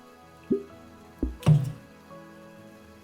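Water dripping from a spouting water feature, a few separate, distinct drips and plops spaced irregularly over a quiet background, close by.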